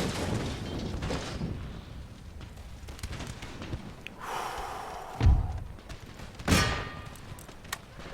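Artillery fire on an Empire Total War battlefield: two heavy booms land a little over a second apart over a continuous, noisy din of distant musketry and clatter.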